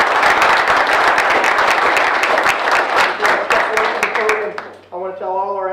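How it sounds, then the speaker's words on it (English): An audience at a Do The Right Thing ceremony applauds with dense, sustained clapping that thins into scattered claps before fading out, followed by a brief voice. "So would everybody just give themselves a round of applause?"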